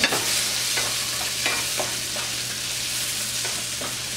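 Tomato and onions frying in a pan make a steady, moderate sizzle with occasional soft stirring scrapes, close and without talk.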